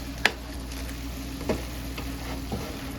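Cajun cabbage simmers in a pot with a steady, low frying sizzle, broken by a few soft ticks and taps, and no voices.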